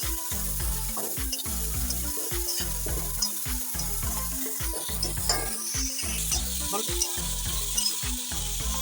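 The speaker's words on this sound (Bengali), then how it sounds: "চিংড়ি মাছটা এখন আমরা ভাজি করব সুন্দর করে যেন লাল লাল হয়" Dried shrimp fry in hot oil in a pan, producing a loud, continuous sizzle with rhythmic stirring scrapes throughout.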